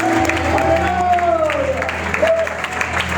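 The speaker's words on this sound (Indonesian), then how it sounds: "kasih tepuk tangan untuk Tuhan" Church congregation applauds during a Sunday sermon, a steady wash of clapping with some cheering and a sustained sung or whooping voice rising over it.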